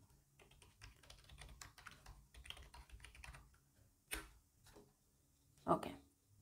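A command being typed on a computer keyboard, a quiet irregular patter of key clicks with a few sharper taps near the end, heard close up with no talking.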